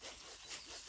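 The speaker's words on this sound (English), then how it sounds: "Can you sense this rubbing from your left side" Fingers rub softly beside the left ear during a cranial nerve hearing check outdoors, a faint, close, continuous scratchy rustle heard alone.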